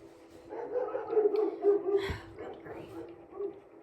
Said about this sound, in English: These dogs have just not stopped barking all morning.